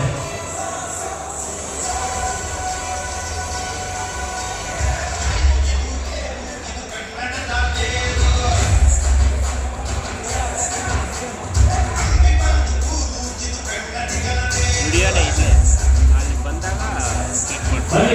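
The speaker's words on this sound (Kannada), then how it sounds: "ಜೋರಾಗಿ ಚಪ್ಪಾಳೆ" An auditorium audience at a Karnataka working journalists' ceremony in Ravindra Kalakshetra, Bengaluru, applauds loudly. The dense, sustained crowd noise swells and ebbs across the whole stretch, mixed with murmuring voices.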